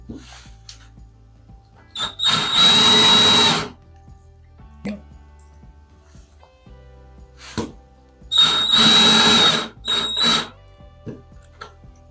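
A power drill drives a screw into MDF through a pilot hole. Two loud, close bursts of whining motor are each followed by shorter trigger blips, with quiet handling noises in between.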